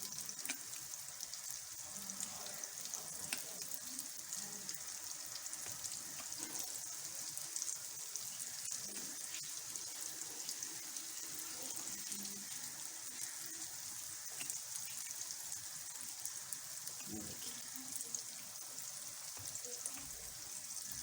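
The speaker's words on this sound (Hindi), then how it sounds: "और हल्की आंच में फ्राई होंगे" Urad dal vadas fry in a pan on low heat, giving a steady, soft sizzle with faint crackles that carries evenly throughout.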